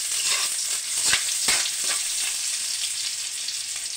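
Onion sautéing in a pan of garlic and shrimp for ginisang upo, a steady close sizzle with occasional sharper crackles and stirring scrapes, no talking.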